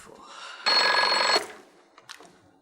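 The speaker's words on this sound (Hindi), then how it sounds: "इस वक्त किसका फोन आ गया?" A telephone bell rings once in a single steady burst of under a second, loud and close in a quiet home room, followed by faint movement.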